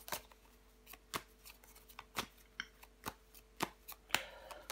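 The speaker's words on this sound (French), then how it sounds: "On va recouvrir des cartes." Tarot cards being laid down one by one and covered, giving a series of sharp, evenly spaced slaps and light card rustles, close and fairly quiet, with no talking.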